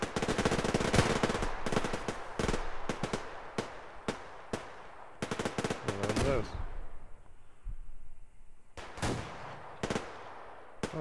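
Gunfire in the video game Survarium crackles in sharp, rapid bursts and single shots, spaced by short pauses, with a longer lull near the end.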